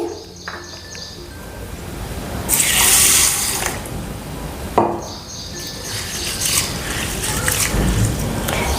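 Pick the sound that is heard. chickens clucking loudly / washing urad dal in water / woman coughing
washing urad dal in water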